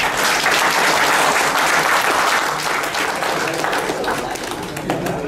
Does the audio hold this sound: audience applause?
yes